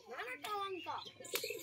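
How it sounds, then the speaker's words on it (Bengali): A pigeon coos softly in short rolling notes close by, with bursts of chirpy sound and a faint voice mixed in. "এই পায়রাটা প্লাঙ্কা পায়রা"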